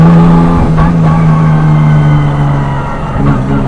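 A Nissan Skyline R34 GTR engine roars loud and close under hard acceleration, its steady drone dipping briefly at quick gear changes before pulling on.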